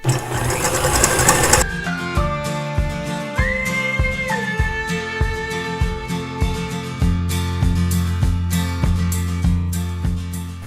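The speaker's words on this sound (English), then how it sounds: "We're going to keep on whipping this on high speed until we get stiff peaks." Electric mixer whipping macaron meringue with caster sugar at high speed, a steady loud whirring motor with shifting pitch and rhythmic beater clatter throughout, no talking.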